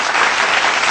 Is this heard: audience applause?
yes